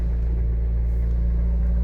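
A 1974 first-generation Honda Civic engine runs at idle, a steady low rumbling drone close by, with no talking.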